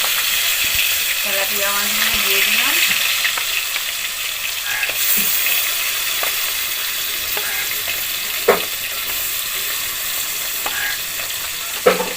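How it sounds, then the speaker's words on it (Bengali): Tilapia pieces fry in mustard oil in a hot wok, giving a loud, steady broadband sizzle with occasional stirring clinks and scrapes, with no talking. "মাছগুলো আমার ভাজা হয়ে গেছে তুলে নেবো এবার"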